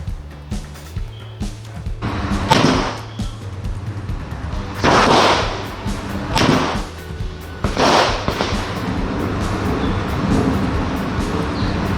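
CZ Shadow 2 pistol fired at a range, with several loud, sharp shots spaced a second or two apart, their echoes ringing over a steady low background hum.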